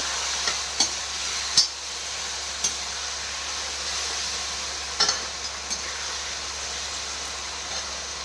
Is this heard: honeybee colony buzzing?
no